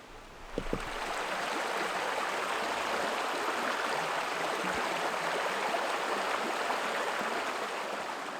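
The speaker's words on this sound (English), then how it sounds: "We have a nice set of rapids going right into this deep pool" Rushing river rapids pour steadily into a deep pool, a loud continuous broadband roar of moving water that stays even throughout, with a few faint knocks near the start.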